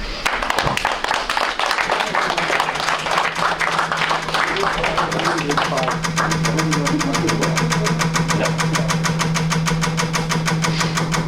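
The Big Money Wheel spinning on a live taping of The Price Is Right: a dense run of rapid, regular clicks as the pegs pass, loud and steady, over a noisy studio crowd with cheering and applause.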